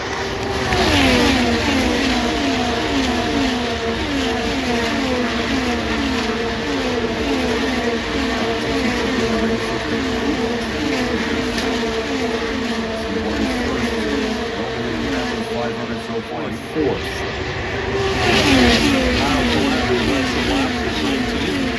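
Alex Palou's IndyCar at the Indianapolis 500, a high, loud engine whine rising and falling as cars pass on the speedway, nearly continuous, with a race commentator's voice underneath.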